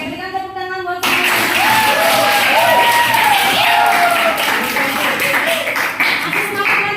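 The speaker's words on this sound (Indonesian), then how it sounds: "berikan tepuk tangan buat saya" A class breaks into sustained applause, dense clapping with some cheering that carries on for several seconds after a short spoken moment and under a teacher's voice.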